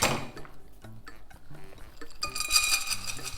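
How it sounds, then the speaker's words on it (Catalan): Pine nuts tipped into a frying pan already used for cooking spinach, giving a brief scatter of light clinks and ticks against the metal, close and fairly quiet, with a brighter rattle near the end and no talk. "I en la mateixa paella posarem els pinyons"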